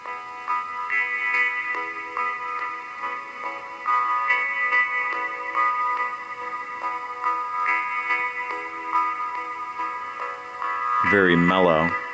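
A stock ringtone on a ZTE Open phone running Firefox OS plays a soft, mellow looping melody of tinkling tones, steady in level, with a voice briefly speaking over it near the end.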